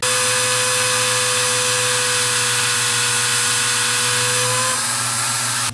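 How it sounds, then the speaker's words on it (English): A power drill whirs steadily at high speed, drilling through horn into wood, with a constant motor whine, then winds down near the end. "You just want to drill through the horn and a little bit into the wood."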